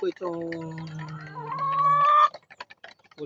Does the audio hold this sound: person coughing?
no